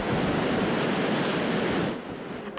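Strong typhoon wind roars in a dense, steady rush with no voices, swirling hard before easing slightly near the end.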